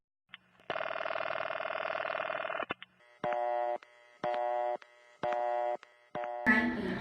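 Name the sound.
telephone dialing followed by a busy signal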